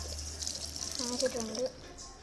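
Water is poured over small cut pieces of paper being wetted to make paper soap. It gives a short, close splashing gush, with a voice speaking briefly over it.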